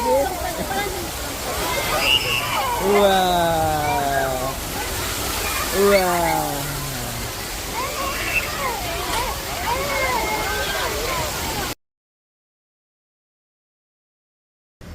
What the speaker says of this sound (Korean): 야, 파도 치지?